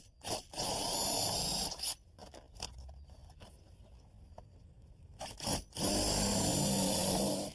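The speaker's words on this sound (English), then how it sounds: "I'm going to drill a 5/8 of an inch hole so that the siding will move" A power drill bores a 5/8 inch hole through vinyl siding in two loud grinding bursts at the start and end, separated by a quieter stretch of faint handling scrapes.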